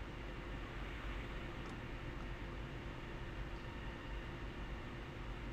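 Passenger train rolling along in the Train Sim World game, a steady dense rumble with a low drone held at an even level throughout, no voices.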